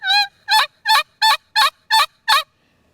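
Seven sharp, evenly spaced yelps from a pot-style turkey call imitating a gobbler jake yelp, loud and close with no talking.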